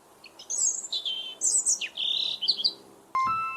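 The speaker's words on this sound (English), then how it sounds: "Hello, I am Robin, the early bird. I love to sing sweet songs in the morning." A robin, the red-breasted garden bird, sings a run of bright, high chirps and warbling phrases in quick bursts, clear and fairly close, ending with a sharp tonal click.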